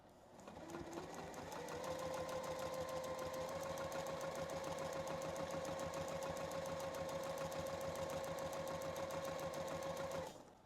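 Domestic sewing machine running steadily while pebble quilting, a fast even mechanical stitching hum with a rapid regular needle rhythm, close and continuous for about ten seconds before stopping.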